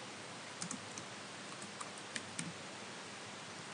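Faint, sparse clicks of typing on a computer keyboard, a few scattered keystrokes over a quiet room hiss.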